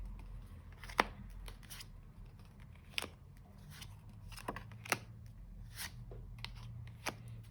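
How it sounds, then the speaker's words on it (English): Tarot cards are shuffled and drawn in a quiet room, giving soft sharp snaps and flicks at irregular intervals over a faint background hum. "let me just get a few more cards just to clarify"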